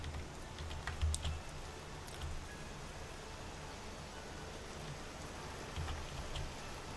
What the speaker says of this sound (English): If that's just the rain, it's weirdly loud.